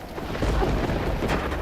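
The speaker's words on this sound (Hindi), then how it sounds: "वर्षा थमने लगी है।" Heavy rain pours with a low rumble of thunder rolling through it, loud and continuous throughout, in a dramatic devotional TV scene of Krishna's Govardhan episode as the storm of Indra begins to ease.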